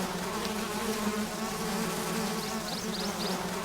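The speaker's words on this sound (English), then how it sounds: "that's bees on one side" Dense, continuous buzzing of a bee swarm in the adventure game Zork: Grand Inquisitor, loud and close with a steady hum throughout.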